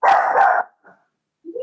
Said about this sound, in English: My dog's going crazy now because he hears all that barking.